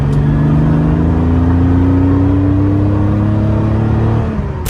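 An early-1960s Aston Martin DB5 with a 4-litre six-cylinder engine accelerates hard, its loud engine note climbing steadily in pitch through the gears, close and with no talking.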